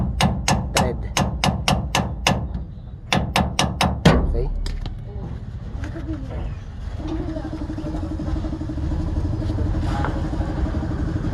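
A hammer strikes a metal lift kit part on a Mitsubishi Strada pickup in a run of sharp, rapid, evenly spaced blows at close range. A brief pause splits the run, then mechanical clatter and a steady low hum follow.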